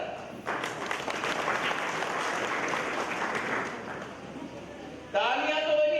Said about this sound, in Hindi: तालियां तो बनी,